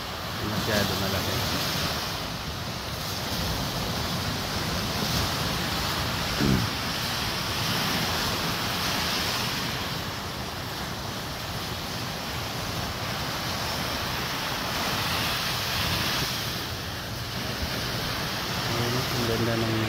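Large ocean waves breaking on a shore, a steady loud roar of surf mixed with strong wind buffeting the microphone, continuous throughout with no pauses.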